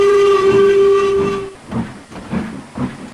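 A steam engine gives a long whistle blast and then chuffs off with slow, heavy rhythmic puffs, loud and close.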